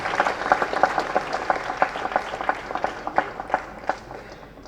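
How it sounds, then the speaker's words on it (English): Audience applause after praise for a member of India's 1983 cricket team: a steady wash of many hands clapping, moderately loud, with a few sharper claps standing out and no talk over it. "That's an applause that's coming to him decades later"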